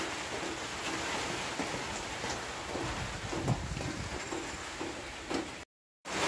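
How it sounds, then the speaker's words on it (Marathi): Steady rain hiss with scattered drips and taps, continuous throughout before cutting out briefly near the end. "दादा पाऊस आला वाटतं"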